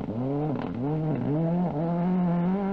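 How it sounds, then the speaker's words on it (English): A British-built Ford Escort rally car on the 1998 Boucles de Spa revs hard, its anti-lag system popping as the engine note rises and falls in repeated surges, loud and close. "Here the old anti-lag system popping away"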